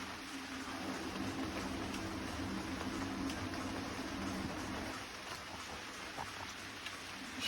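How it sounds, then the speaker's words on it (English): Steady rain falls in the dark around someone fitting Samco silicone hoses to an Escort Cosworth outdoors, a constant broadband patter with faint low rumble underneath, no talking. "that rain's coming down a bit now"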